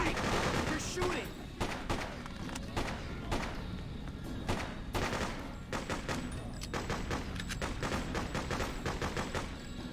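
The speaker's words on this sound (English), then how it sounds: "You're shooting." Gunfire rattles through a Freedom Fighters video game battle in repeated rapid bursts and single shots, loud and continuous over a low background rumble.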